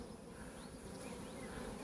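Honeybees hum on a brood frame lifted from a hive, a soft, steady, continuous buzz close by.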